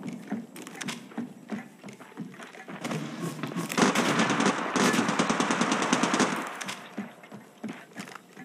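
Rapid automatic gunfire in the mobile battle royale Apex Legends Mobile, with bursts that build into a sustained loud fusillade in the middle, then trail off into scattered shots.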